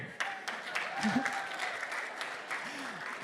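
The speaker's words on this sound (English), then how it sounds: "Round of applause for getting married." An audience at a talk breaks into faint, scattered applause, with loose individual claps spread across a few seconds and a voice speaking quietly underneath.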